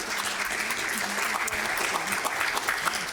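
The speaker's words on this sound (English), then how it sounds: "Give another round of applause for those innovative startups." An audience at a cybersecurity startup pitch competition in Houston gives a sustained round of applause, dense clapping filling the hall, with a voice speaking over it.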